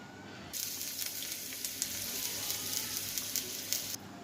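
Sliced onions hit hot oil in a wok with a sudden, loud hiss, followed by steady crackling and spitting that holds for several seconds before cutting off.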